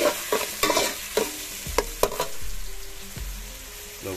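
Onions going into garlic already frying in oil for a bottle gourd and shrimp curry, stirred with a spatula: repeated scraping strokes over a steady sizzle, close and fairly loud, with no talking.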